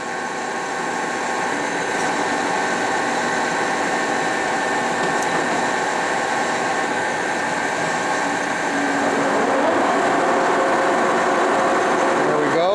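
A 60-inch Webster & Bennett vertical turning and boring machine runs at speed, giving a loud, steady mechanical drone and hum throughout, with a rising whine near the end and no clear talk.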